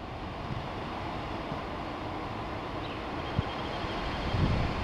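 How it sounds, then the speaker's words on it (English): Continuous broadband wind rumble buffeting the microphone, loud and steady throughout. "So windy?"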